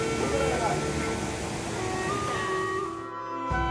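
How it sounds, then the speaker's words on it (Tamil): Steady broadband rush of the Panchalinga waterfall, also called Thirumoorthy Falls, its flowing water filling the scene loudly, with a voice speaking over it. The roar drops out briefly near the end and then returns. "இந்த அருவியோட பேரு பஞ்சலிங்க அருவி. இந்த பஞ்சலிங்க அருவி தான் திருமூர்த்தி ஃபால்ஸ், திருமூர்த்தி அருவின்னு ரொம்ப ஃபேமஸா அழைக்கப்படுது."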